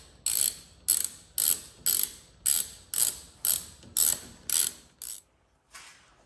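A ratchet wrench clicks as it turns 10 mm bolts, about nine evenly spaced bursts of sharp ratcheting, loud and close, followed by a final softer stroke.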